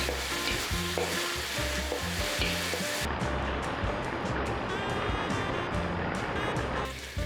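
Beef sizzles and crackles as it is stir-fried in a hot wok, a loud, dense, continuous frying hiss with no voices.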